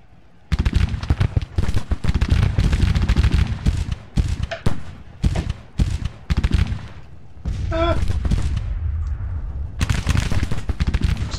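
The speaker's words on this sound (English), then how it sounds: "now we're starting to get guys opening fire" Civil War rifle gunfire in the strategy game Grand Tactician: dense, loud volleys of crackling musketry that pour out almost without pause, with a brief lull before the firing swells again.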